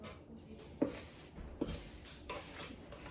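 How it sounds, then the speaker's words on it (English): Sugar being mixed into butter in a bowl for cookie dough, a few soft scraping strokes and clinks of a utensil against the bowl, close and quiet with no talking. "So first thing you have to do is mix the sugar with the butter"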